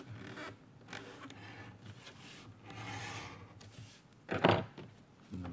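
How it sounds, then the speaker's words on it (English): A groover is drawn along the edge of an unlined leather shoulder holster, producing faint, close scraping strokes in short bursts with quiet gaps, including one sharper, louder rasp near the end. "I always groove the edge."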